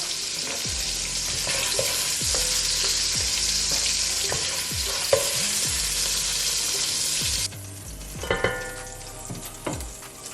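Andouille sausage sizzles steadily in a hot pan, a loud continuous fry with periodic soft clunks as pieces are moved, quieting partway through to lighter crackles.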